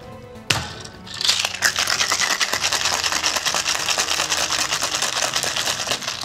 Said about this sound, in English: so you definitely want to shake it hard